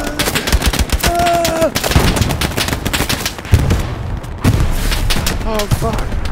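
Dense, loud gunfire in the World War II shooter Hell Let Loose: rapid rifle and machine-gun bursts crack close by, with heavier booming shots mixed in and excited voices shouting over the firing.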